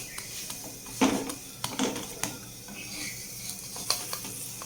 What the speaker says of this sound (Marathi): याला आता भाजून घेऊया दुसऱ्या साईडने